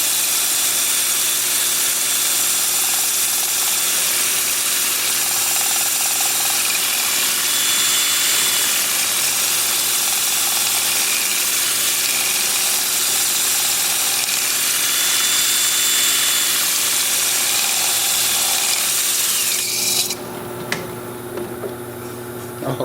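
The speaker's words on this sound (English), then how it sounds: "I've got this dowel chucked up in my drill with a slot cut in it and sandpaper inserted in there" An electric drill spins a slotted wooden dowel wrapped in sandpaper against turned wood, giving a steady, close, continuous whirring rasp that cuts off sharply near the end, leaving faint handling noises.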